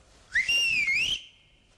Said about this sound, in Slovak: No dobre, budeme hvízdať.